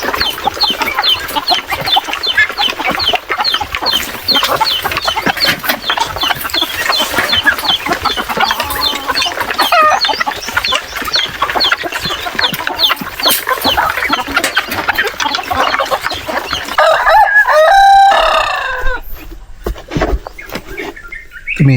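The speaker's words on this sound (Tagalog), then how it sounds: "Tumitilaok na." A rooster crows and chickens cluck and chirp continuously on a farm with young chicks nearby, a loud, busy flock chorus that ends with a clear crow near the close.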